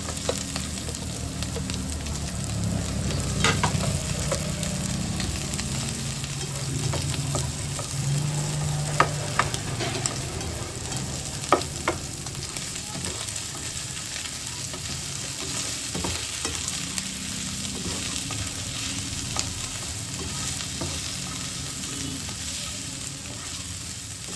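Garlic sautéing in a pan, a continuous close sizzle and crackle with scattered utensil scrapes and taps throughout, no voices over the frying.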